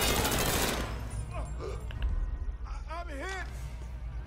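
Gunfire in the Mafia 3 video game: a dense, loud burst of rapid shots fills the opening second, then fades behind voices talking.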